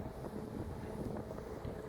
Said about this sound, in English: I apologize for the wind